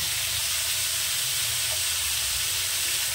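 A radish and puti fish curry is fried down in a pan, producing a dense, unbroken hiss of sizzling oil at a constant loud level with no voices.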